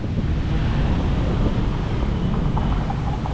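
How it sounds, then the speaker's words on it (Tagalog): Strong typhoon wind roars steadily and loudly through trees in Manila, buffeting the microphone with a dense rushing noise throughout. "Kaso dito pagkalakas ang hangin yung mga puno lakas."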